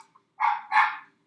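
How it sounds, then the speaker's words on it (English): Dog barking somewhere in the room, two loud, close barks in quick succession after a faint short yip, no talking over them. "Sorry about the dog."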